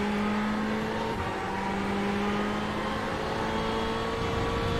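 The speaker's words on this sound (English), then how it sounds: "Audi coming through in a hurry." An Audi GT race car in iRacing at Interlagos roars steadily at high revs, a sustained loud engine drone that sweeps slightly in pitch as it closes in and passes.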